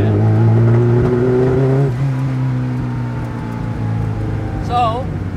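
A 750hp Lotus engine idles and revs on a dyno while still cold, with a steady low harmonic drone, a brief rise in pitch, then settling back; close and loud, with a short squeal near the end.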